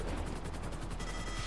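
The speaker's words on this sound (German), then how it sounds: "Hör auf mich zu schießen." Automatic gunfire in GTA Online on Xbox 360, heard as a rapid, even rattle of shots that is fairly faint and distant within a noisy, rumbling game soundscape.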